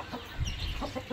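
Soft clucking from a rooster, a few short low calls in quick succession, fairly close, with faint background noise.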